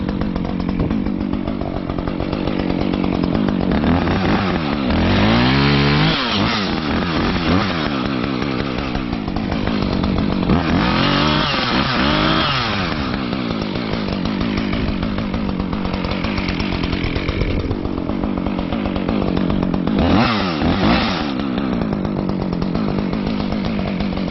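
A Husqvarna chainsaw runs steadily during logging, loud and close for the whole stretch, its engine pitch rising and falling as it revs and bites into wood.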